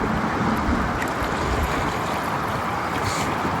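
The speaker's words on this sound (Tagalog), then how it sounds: "Medyo malakas nga lang din ang alon po." Strong sea waves wash and churn continuously close by in cold, windy weather, a broad rushing surge mixed with wind buffeting the microphone, with no voices.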